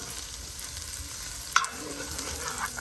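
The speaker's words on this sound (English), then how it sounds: "go ahead and melt 2 tablespoons of butter and drop some shallots in there" Shallots sizzle steadily in two tablespoons of melted butter in a pan, a continuous close frying hiss with one sharp clink of a utensil stirring partway through.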